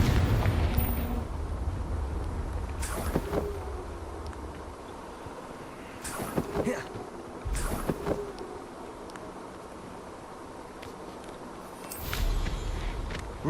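Confringo fire-blast spell cast in Hogwarts Legacy: several punchy explosive bursts with sharp attacks and short rumbling tails, spread out over a low continuous game ambience, moderately loud and with no speech.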